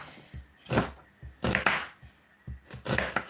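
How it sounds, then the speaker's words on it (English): A knife cutting tomatoes on a board, three distinct, separated chops with quiet pauses between them, close and crisp. "we'll go ahead to cut our tomatoes"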